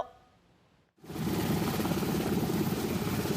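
A Black Hawk helicopter in a rescue drill at a special search-and-rescue training base in Pingtung, Taiwan, cuts in abruptly after a quiet moment, then holds a loud, steady rotor and engine roar nearby.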